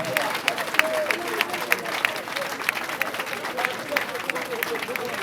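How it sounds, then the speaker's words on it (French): An audience claps for a performing artist at a comedy show. The applause is moderate and a bit uneven, with chatter and crowd murmur underneath. "Bravo à l'artiste, on peut applaudir très très fort pour Naomi Kipolo."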